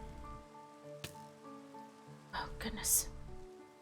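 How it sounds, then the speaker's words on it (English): Rain falling in the video game Minecraft, a soft steady patter held under music-like tones, with a voice speaking briefly over it. "just want to get out of this god dang rain"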